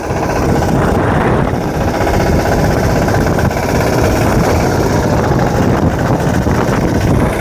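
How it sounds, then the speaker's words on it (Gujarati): A tractor being driven through a flooded farm pond, its engine thrumming loud and steady at close range, with a continuous churning rumble and wind buffeting the microphone. "આ તલાવડીમાં ટ્રેક્ટર કાઢવાનું છે"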